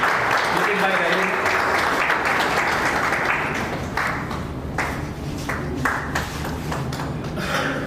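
An audience at a photography exhibition opening breaks into loud, sustained clapping that rises to a full roar and then thins into scattered claps, with voices murmuring beneath it.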